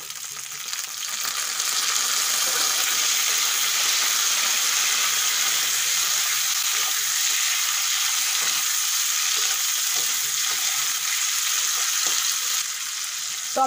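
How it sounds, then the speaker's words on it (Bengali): Chopped tomatoes and onions sizzle and fry steadily in a pan while sambar is being cooked, a loud continuous hiss with faint stirring clatter, alone without voices. "টমেটো একটু ভেজে নিয়েছি"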